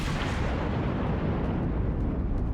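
Battleship guns fire in World of Warships, a loud rumbling roar of the broadside that stays heavy and sustained, with faint sharper cracks toward the end.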